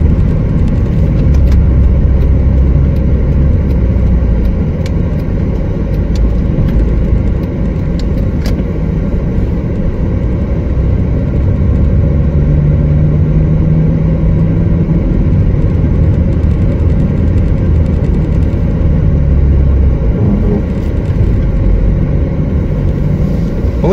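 Car driving slowly along slippery streets in Feodosia, Crimea, after a snowfall: a steady, close, loud engine and road rumble heard from inside the cabin throughout, with no talking.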